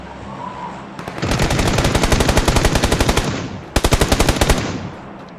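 Automatic gunfire in the video game PUBG Lite: a loud, close burst of rapid evenly spaced shots, a short pause, then a second rapid burst.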